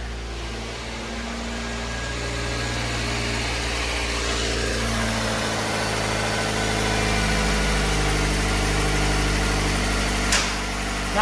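A van's engine idles steadily just after starting, a continuous low rumble with a faint hiss on top, close and unchanging apart from a slight swell in level, with no talking.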